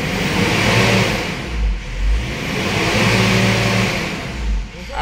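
Ford Everest 2011 diesel engine runs smoothly without knocking, revving up and easing off in repeated loud, close surges with a steady whir between them.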